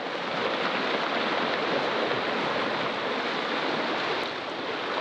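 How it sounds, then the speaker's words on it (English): Sea waves break over rocks at Skrinkle Haven cove in Pembrokeshire as the tide comes in. The hiss of surf is loud, steady and continuous, with no speech. "as the tide comes in, the waves are crashing over the rocks"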